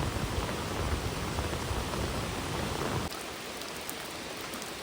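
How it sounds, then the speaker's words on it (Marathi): Dense, steady hiss of heavy rain pouring down, loud and unbroken, dropping suddenly to a softer wash of rain after a few seconds. "बघा अतिशय जोरात पाऊस आहे त्यामुळे पाण्याचा प्रवाहसुद्धा बघा"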